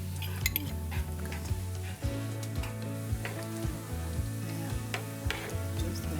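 Vegetables with green onions, green pepper and coriander are stirred in a pot for a Georgian red bean stew, with clinking utensil knocks and scrapes over a soft sizzle, close and continuous, without speech.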